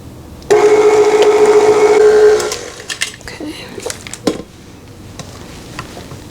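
An electric mixer on low speed blends carrot spice cupcake batter made from boxed cake mix, fresh carrots and butter, running steadily for about two seconds before shutting off, followed by scattered scraping and bowl clatter.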